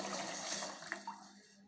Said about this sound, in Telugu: అదే బాండీలోని వాటర్ వేసుకోవాలి.